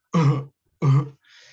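A voice imitates a baby's sudden coughing fit: two hoarse, forceful cough bursts with a short pause between, then a breathy rasping gasp.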